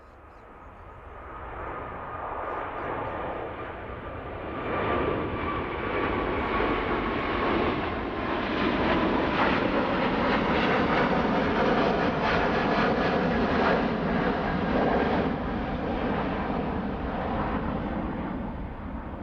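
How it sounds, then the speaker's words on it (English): A Boeing 777 takes off at Heathrow Airport in the evening, its engine roar swelling loud and broad, holding strong for many seconds as the jet climbs away. "The one just getting airborne now."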